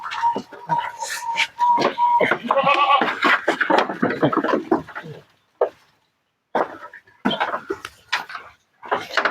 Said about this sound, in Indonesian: Ini kambingnya agak berontak